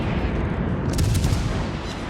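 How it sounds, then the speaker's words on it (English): Naval guns of the cruiser Leander firing in World of Warships: Legends, a heavy booming salvo over a continuous low rumble, with a sharper crack near the middle of the clip. "So we start firing at the enemy"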